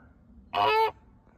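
A single loud, nasal goose honk rings out close by against a quiet background.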